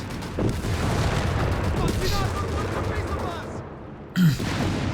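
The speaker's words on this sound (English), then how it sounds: "Minister laying down a heavy carpet of high explosives there against Ray's advancing forces" Artillery barrages and gunfire boom in Company of Heroes 3, a World War II strategy game, with a continuous rumble of explosions, a sharp crack near the end, and a voice partly underneath.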